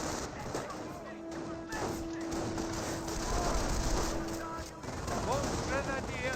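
MG42 machine gun fire and battle noise from the video game Company of Heroes, a steady rattle of distant bursts under continuous combat ambience while someone talks over it.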